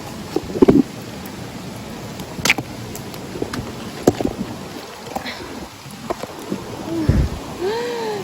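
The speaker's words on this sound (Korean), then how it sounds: "갑자기 비가 많이 와." Heavy rain falls steadily at a backpacking campsite in a remote mountain valley, with scattered louder splashes and knocks over the constant wash, and brief exclamations from a person nearby.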